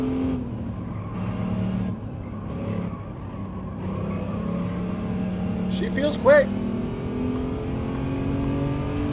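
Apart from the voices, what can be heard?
Audi TT Quattro Coupe engine cornering in video game Gran Turismo 7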